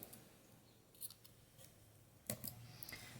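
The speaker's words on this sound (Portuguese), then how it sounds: "Então, vou cortar aqui o meu fio." Scissors snip through knitted-fabric yarn in a quiet indoor setting, two short crisp cuts a little over a second apart, close and fairly soft.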